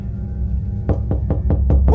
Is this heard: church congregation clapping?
no